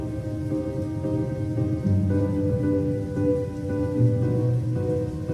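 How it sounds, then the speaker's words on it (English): Rain storm effect from a Trombone Champ custom song, a steady broadband patter of rain layered over sustained low musical tones that rise slightly in places, continuous and moderately loud with no talk. "It's like when you're in a video game and it starts raining and the music like dampens."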